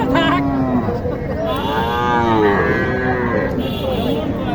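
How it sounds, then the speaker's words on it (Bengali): Young Sahiwal heifers low at a cattle market in Naogaon, with several drawn-out moos, close and loud over a constant crowd murmur. "ছোট ছোট সাইওয়াল বকনা গরু দেখানোর চেষ্টা করব"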